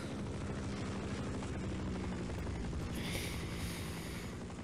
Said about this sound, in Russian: Что за херня с этим вертолетом?